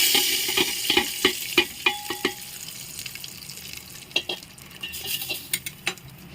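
Hot oil tempering with garam masala poured into a pot of Gujarati dal, followed by clattering spoon strikes and stirring clinks over a fading sizzle, close up with no speech.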